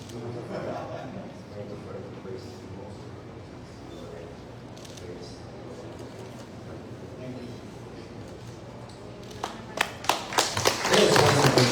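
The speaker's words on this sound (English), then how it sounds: "give our distinguished leaders a warm round of applause" Someone talks over a hall's murmur, then clapping breaks out near the end and builds quickly into louder applause.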